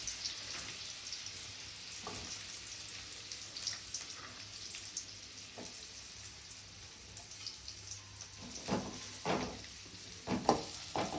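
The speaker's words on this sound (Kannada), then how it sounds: "ಎಣ್ಣೆಲಿ ಚೆನ್ನಾಗಿ ಫ್ರೈ ಮಾಡ್ಕೊತಾ ಇದ್ದೀನಿ ನೋಡಿ" Onions with garlic paste frying in oil in a pan give a soft, steady sizzle, joined by occasional louder stirring scrapes near the end, with no voices.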